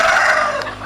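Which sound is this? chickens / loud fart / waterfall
chickens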